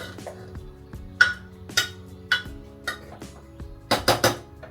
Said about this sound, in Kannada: ಮಸಾಲ ಆ್ಯಡ್ ಮಾಡಾದ್ಮೇಲೆ ಇದನ್ನು ಚೆನ್ನಾಗಿ ಒಂದು ಸ್ವಲ್ಪ ಮಿಕ್ಸ್ ಮಾಡ್ಕೊಳ್ಬೇಕು.